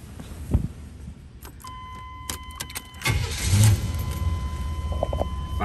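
A 1986 Oldsmobile Cutlass Supreme cranks and catches about three seconds in with a sharp burst, then settles into a steady, fairly loud idle close by, preceded by small clicks and rattles.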